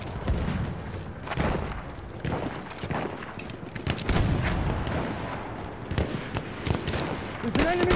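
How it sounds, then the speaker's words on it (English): Machine-gun fire in the World War I shooter Battlefield 1: dense, rapid bursts of gunfire mixed with heavy booms and distant shots, loud and continuous throughout. "There's an enemy machine gun."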